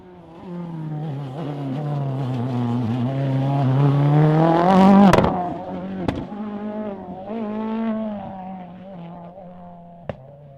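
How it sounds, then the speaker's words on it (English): Ford Fiesta S2000 turbo rally car at a rally super special stage, approaching with a rising, revving engine note that peaks loudly up close and then fades as it passes, with a few sharp cracks and pops. "And boy, we can hear him coming. That Fiesta S2000 Turbo is pretty wicked sounding."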